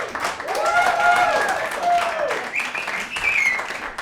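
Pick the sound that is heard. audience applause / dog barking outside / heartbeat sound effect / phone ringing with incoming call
audience applause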